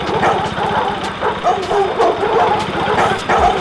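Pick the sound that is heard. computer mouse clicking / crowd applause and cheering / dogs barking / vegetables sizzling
dogs barking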